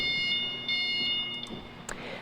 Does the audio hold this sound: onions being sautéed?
no